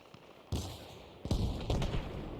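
Several sharp gunshot bursts crack out in the Arma Reforger military game during a raid near a BTR armoured vehicle, coming in quick clusters with loud rumbling tails between them.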